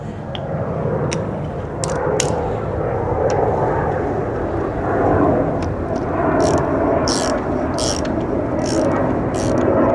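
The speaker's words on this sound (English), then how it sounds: "then I can switch back to the ratchet and finish it off" A ratchet wrench tightens a threaded part on a Specialized Levo SL e-bike, its quick clicking bursts repeating close up over a steady low mechanical hum.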